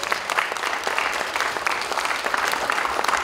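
An audience in a puppet theatre claps steadily throughout, giving a dense, continuous applause of many hands with no speech.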